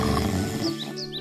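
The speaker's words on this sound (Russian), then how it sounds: "услышали громкий храп, доносившийся из берлоги старого медведя" An old bear snores loudly in its den in a cartoon, a deep, rough, growling rumble that carries through the whole moment, with a few higher whistling tones near the end.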